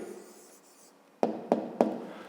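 Pen writing down an answer to a fifth-grade maths exercise, a soft scratch of pen on paper followed by three sharp, evenly spaced taps, close and quiet with no talking.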